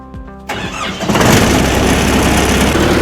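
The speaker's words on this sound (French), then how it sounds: "Voilà, on va démarrer notre moteur." A motor is started with a press-and-hold control, cranking briefly before catching and settling into a loud, steady running roar close by, with no talking.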